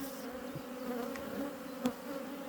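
A honeybee colony hums steadily during a hive inspection while frames are checked for swarm cells, a close, continuous droning buzz with a few brief louder passes of individual bees.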